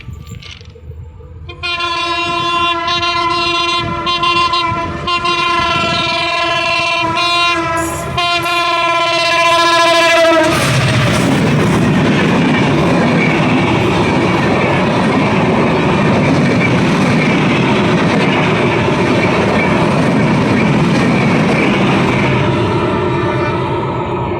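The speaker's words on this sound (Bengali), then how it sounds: "আমাদের কাঙ্ক্ষিত ট্রেনটি এসে গেছে" Madhumati Express passenger train in Bikrampur sounding a long, loud multi-tone horn for about ten seconds as it nears, then thundering past up close with a dense, steady rumble of wheels and carriages.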